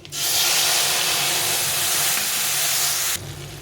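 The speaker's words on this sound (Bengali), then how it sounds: "এখন আমি এর মধ্যে এই মশলাটা দিয়ে দেবো দিয়ে একটু ভেজে নেব" Spices with dry chillies, bay leaf and cumin hitting hot oil in a pan, a loud close burst of hissing sizzle that holds steady for about three seconds before dropping away.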